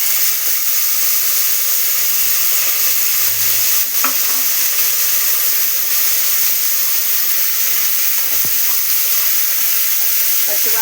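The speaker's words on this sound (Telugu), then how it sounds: "ఇప్పుడు గోరు చిక్కుడుకాయ ముక్కలు వేస్తున్నాం." Cluster bean pieces frying in a pan for a home-style curry give a steady, close sizzle that runs throughout, with a couple of brief clinks of stirring.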